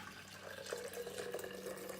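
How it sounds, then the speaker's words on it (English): Fresh homemade juice poured into a glass, a soft continuous liquid trickle and splash running steadily for about two seconds at close range, with no talking over it. "we'll pour one for me, and then we'll cheers"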